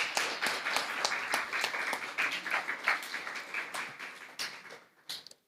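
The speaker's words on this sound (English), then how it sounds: "Can we give them a clap, please?" An audience at a primary schools' football tournament press briefing claps for several seconds, a dense patter of many hands that thins and fades toward the end.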